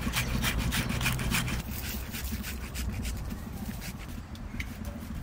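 Raw taro (kochu) is rubbed and ground for paste, giving close, rough scraping strokes that are rhythmic and strong at first, then turn to a softer, steadier grinding rasp.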